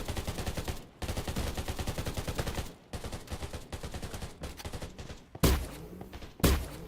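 Rapid bursts of gunfire from the Undawn survival shooter game, with dense automatic volleys broken by short pauses and a few sharp, louder shots near the end.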